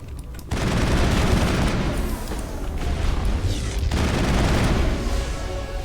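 Sustained gunfire from a firefight in Mass Effect (2007), a loud dense barrage of rapid shots and booms that runs almost continuously after a brief lull at the start.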